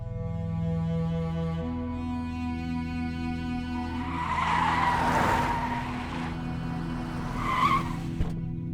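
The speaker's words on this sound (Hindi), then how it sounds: "बादशाह, गाड़ी निकलो।" A car pulls away with tires squealing and skidding in a Bollywood action film scene, a long screech rising over engine rumble, with a couple of louder bursts near the end.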